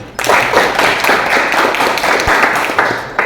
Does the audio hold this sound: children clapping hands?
yes